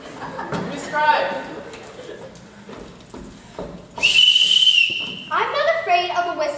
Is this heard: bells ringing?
no